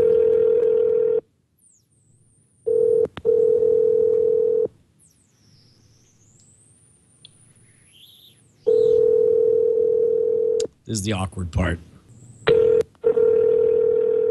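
A telephone call being placed, a loud steady dial tone cutting in and out in long blocks, with short dialing tones and a brief spoken remark between them, close and clear.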